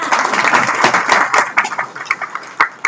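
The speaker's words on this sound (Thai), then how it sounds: "ขอเสียงปรบมือด้วยครับ" Audience applause at a training seminar in Thailand, with steady, fairly loud clapping from a crowd in an indoor hall that continues for about three seconds.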